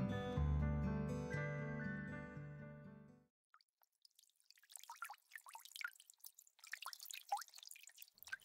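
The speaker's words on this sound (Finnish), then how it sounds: "Täällä joka puolella kuuluu tommonen veden lorina ihan kuin sataisi" Moisture drips from vegetation in a misty field, like rain. Scattered, irregular, faint drips follow a brief sustained tonal sound and a moment of silence.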